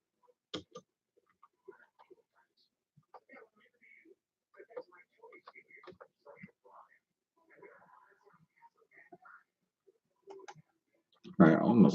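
A person types on a computer keyboard, producing sparse, irregular clicks spread across the clip. Quiet talk is mixed in, and a louder burst of noise comes at the very end.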